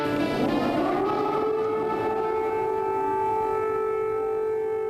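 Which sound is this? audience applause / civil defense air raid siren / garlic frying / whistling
civil defense air raid siren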